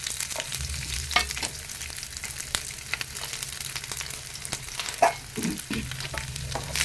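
Ginger and garlic fry in hot oil with mustard seeds: a steady close sizzle with scattered sharp crackles and pops, plus a few soft stirring knocks, with no voices.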